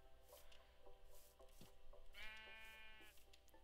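Sheep in Minecraft give a single drawn-out bleat midway, faint and alone over quiet background game sounds.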